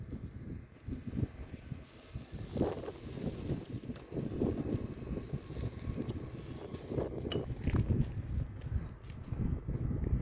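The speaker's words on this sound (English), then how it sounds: "it's a little windy" Gusty wind of about 15 miles an hour in Quartzsite, Arizona buffets the microphone in uneven rumbling bursts throughout, with low roaring swells and faint rustling behind.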